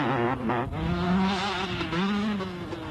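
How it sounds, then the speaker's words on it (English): A 125 KTM off-road motorbike racing through bush at a 2002 national off-road race in South Africa, its engine revving loudly and steadily with rising and falling pitch, close and continuous for the whole stretch. "That's the way to ride through the bush on a 125 KTM."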